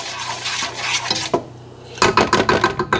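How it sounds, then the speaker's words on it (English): Stirring vegan boxed mac and cheese in a pot, with a spoon scraping and clinking against the metal in a run of close, uneven strokes that grow louder and more rhythmic toward the end. "I just stir it up"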